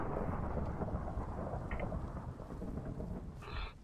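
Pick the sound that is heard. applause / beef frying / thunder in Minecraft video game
thunder in Minecraft video game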